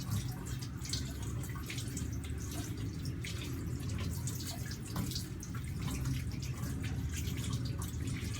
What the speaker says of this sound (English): rinsing under running water helps in mechanically washing away the microorganisms and dirt from our hands